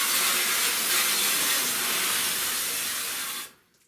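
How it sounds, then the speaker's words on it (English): Metal-prep spray is misted over a car door panel of a 1970 Buick Wildcat convertible during bodywork, a loud, steady, close hiss lasting about three and a half seconds before it stops abruptly. "Then I come in one more time, spray this down."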